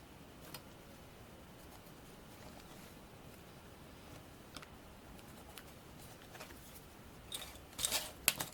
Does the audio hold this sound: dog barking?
no